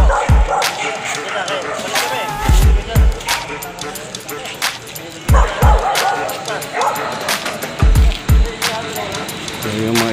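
Several dogs bark in bursts around a quiet neighborhood during a night patrol, repeated yips and barks near and far, with people talking and street noise in between.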